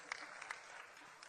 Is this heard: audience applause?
yes